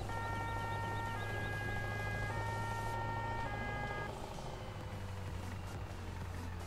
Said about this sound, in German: ein deutscher Feuerwehr-LKW mit einer französischen Sirene